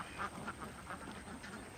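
Ducks quacking in a Kerala paddy field, several short quacks in an irregular rhythm, fairly close but moderate in level, with no talk over them.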